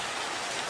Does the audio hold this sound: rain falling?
yes